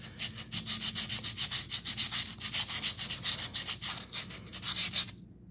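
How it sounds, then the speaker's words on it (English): Hand sanding with small pieces of 150 grit sandpaper on a Ford FC100 RC body shell: steady rapid back-and-forth rubbing strokes, close and loud, stopping abruptly at the end. "I take just like 150 grit sandpaper"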